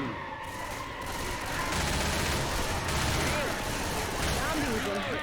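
Dense, continuous gunfire in Left 4 Dead 2, rapid overlapping shots and clatter filling the whole stretch at a steady high level, with players talking underneath.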